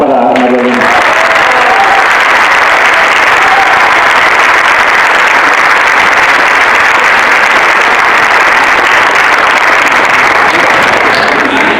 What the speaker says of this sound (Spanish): Pido otro aplauso para María Elena.